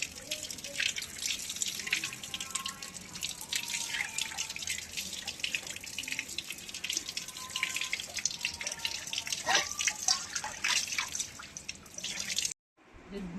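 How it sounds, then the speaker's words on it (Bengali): Fish being rinsed with salt under a running kitchen tap, a steady close splash and trickle of water with scattered drips, continuous for most of the stretch before cutting off abruptly near the end. "পরিষ্কারই মাছ, কিন্তু একটু ল্যার করছে বলে আমি নুন দিয়ে ধুয়ে নিচ্ছি।"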